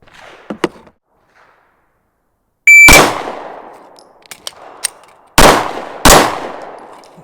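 Gunshots fired at a steel target, with three loud sharp cracks, each followed by a decaying ring, plus a few softer clicks and taps between them, alone with no talk.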